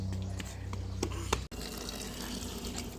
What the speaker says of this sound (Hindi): इस तरह से पानी पटाया जाता है।